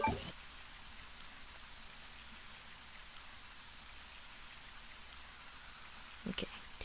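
Steady rain falls in a graveyard scene of the video game Resident Evil: Code Veronica X, a soft continuous hiss at low level throughout, with a brief louder burst near the end.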